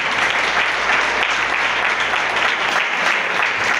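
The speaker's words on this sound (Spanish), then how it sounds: "Den un fuerte aplauso al Espíritu Santo." A church congregation claps loudly and steadily, a thick wash of hands filling the room at a constant level with no speech over it.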